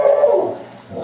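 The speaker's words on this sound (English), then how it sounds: "Don't bark at me." A dog gives a single brief, whiny bark-like yelp lasting about a second, close and fairly loud.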